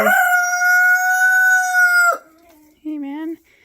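A loud, close rooster crow in a backyard chicken pen holds a long, drawn-out call, then breaks off, and a short cluck follows after a brief gap.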